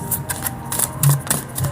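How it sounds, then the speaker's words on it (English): A deck of tarot cards is shuffled briskly, giving a few quick papery riffles and slaps in a short burst. "Let me shuffle one more time,"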